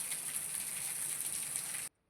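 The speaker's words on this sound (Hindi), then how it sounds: "बारिश फिर से शुरू हो गई" Steady rain hisses outside a home during a housewife's daily chores, a dense even wash of drops that continues without pause and then cuts off abruptly near the end.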